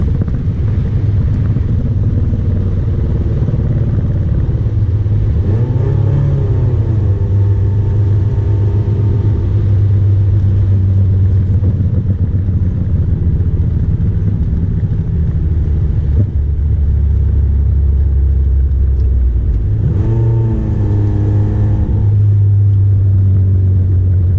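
A 2004 Nissan Sentra SE-R Spec V drives along with a loud, steady engine drone and deep rumble, its pitch swooping up twice as the car downshifts, heard from inside the cabin.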